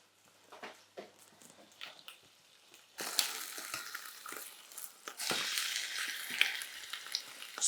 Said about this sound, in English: Just going to get a really, really nice colour on this lamb.